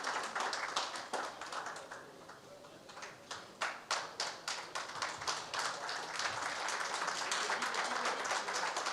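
Audience applause welcoming a state Congress committee president onto the Bihar Ki Baat stage, a steady wash of clapping that builds into rhythmic, louder claps midway and continues to the end.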